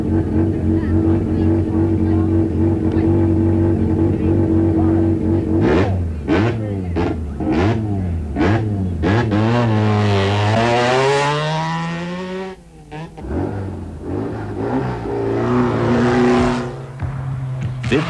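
Rally cars in the 1987 Venda Sun rally fire up and rev at dawn in the Venda Hills, engines climbing and dropping in pitch through repeated loud blips before settling into a steady idle.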